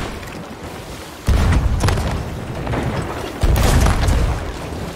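Cannon fire in a pirate video game: two heavy booming blasts about two seconds apart, each with a rumbling tail, over a steady noisy game backdrop.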